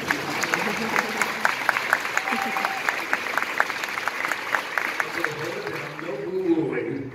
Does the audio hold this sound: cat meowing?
no